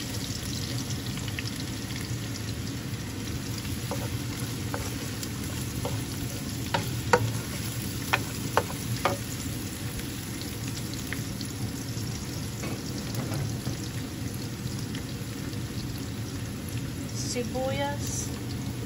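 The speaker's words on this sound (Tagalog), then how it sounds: "Pag-brownin ko ang luya. Lalagay ko ang bawang." Ginger browning in a pan as garlic is added, giving a steady close sizzle of frying with scattered clicks and taps of a utensil and occasional sharper crackles.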